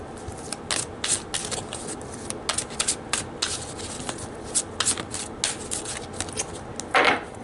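Tarot cards shuffled by hand at close range, a steady run of crisp riffling bursts and soft slaps repeating through the whole stretch with no voice.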